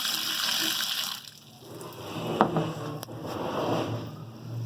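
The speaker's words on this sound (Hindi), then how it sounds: "ये मैं पानी डाल लिया।" Water poured over brinjal to wash it during village-style baingan bharta preparation, a steady splashing pour with a few sharper splashes, close and clear, with nobody talking.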